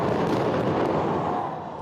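Fireworks over the River Thames in London at the New Year 2026 celebration, 12,000 of them, make a loud, continuous dense roar of crackles and booms with no voices.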